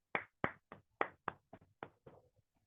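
Online session participants give a short run of about nine distinct hand claps to their gurus. The claps come close and clear over silence and trail off softer toward the end.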